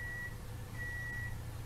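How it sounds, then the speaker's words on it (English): A faint, thin electronic tone beeps in long pulses over a low background hum. "What's that beeping sound?"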